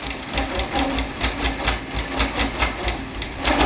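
A long-arm quilting machine stitching a tote bag with steady, rhythmic mechanical clatter, a regular pulsing beat that runs close and fairly loud throughout without speech.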